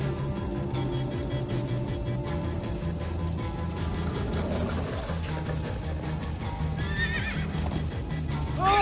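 Horses galloping and neighing in the Minecraft Story Mode video game, with rapid clip-clop hooves running throughout and a few high whinnies near the end, loud and close over a dense game soundtrack.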